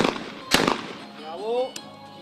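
Shotgun shots ring out at a men's team skeet medal match, with one sharp close blast followed by a fainter distant report while a commentator talks over the scene.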